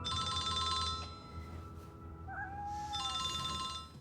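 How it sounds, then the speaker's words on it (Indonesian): A telephone rings in a film scene: two bursts of a bright electronic ring separated by a short gap, with a faint chirping sound in between, moderately loud against quiet background. "Eleanor mendapatkan telepon dari Ship Jackson"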